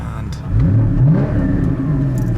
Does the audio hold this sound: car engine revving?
yes